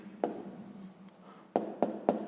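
A pen writes an answer on paper during a fifth-grade maths exercise: a longer scratch, then three short, distinct strokes, close and quiet with no talk.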